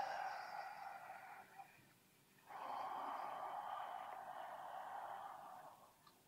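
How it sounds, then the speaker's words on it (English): Slow, deep breathing in and out, drawn through the nose, with two long airy breaths separated by a short pause. It sounds close and soft and comes with no talk. "And enjoy breathing in and out, because it's lovely."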